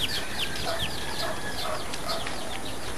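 Chicks peeping with repeated high, thin downward chirps over steady background noise, several birds calling continuously and close by.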